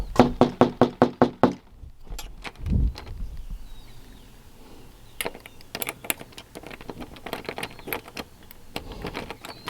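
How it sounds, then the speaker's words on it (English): Knocking on the front door of a house once lived in by hoarders: a quick run of about six sharp raps, close and loud, then fainter scattered taps and clatter. "Let me just knock first."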